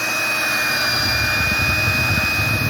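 A smoking diesel heater being fired up runs loudly with a steady, roaring jet-like drone and a high whine, continuous and close throughout.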